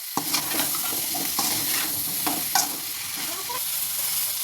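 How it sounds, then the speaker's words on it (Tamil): Brinjal and drumstick pieces stir-fried in a pan for drumstick poriyal: a steady close sizzle punctuated by several scraping, clinking strokes of a spoon against the pan. "கத்திரிக்காய் முருங்கைக்காய் போட்டுக்கலாங்க. வதக்கிக்கலாங்க."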